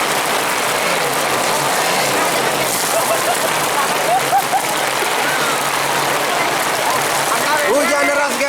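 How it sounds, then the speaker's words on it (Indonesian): Heavy rain pours on a motocross race at the Pattojo circuit, a loud constant roar with faint voices and scattered background chatter mixed in. "Hujan deras guys."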